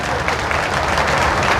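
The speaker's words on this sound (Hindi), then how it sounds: "आपको अच्छा लगा तो जोरदार ताली बजाइए।" An audience at a hospital foundation-stone ceremony in Sujangarh claps loudly and continuously, dense applause filling the brief moment.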